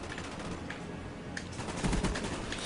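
Rapid automatic gunfire rattles in a continuous, dense burst during a Call of Duty: Black Ops match, loud and close, with no voices over it.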